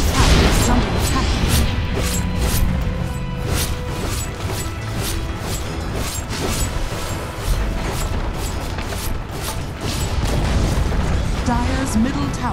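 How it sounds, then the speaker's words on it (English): Dota 2 match with a booming, crashing tower destruction blended into continuous loud game noise, explosions and clatter running throughout, with a voice speaking over it. "Dire's middle tower has fallen"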